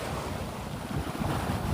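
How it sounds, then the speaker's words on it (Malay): Strong wind buffets a microphone at a seaside fishing spot, a loud, continuous roar mixed with the wash of surf, steady throughout with no voices. "Angin dia kuat."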